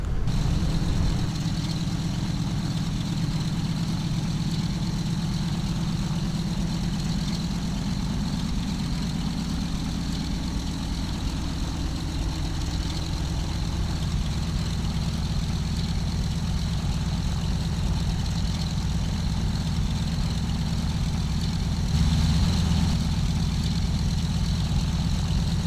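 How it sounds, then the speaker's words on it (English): Engines of a C-123 Provider aircraft taxiing in Flight Simulator X's Vietnam era setting, a loud, steady low droning rumble that continues without pause, with a slight swell near the end. "so we are taxiing out."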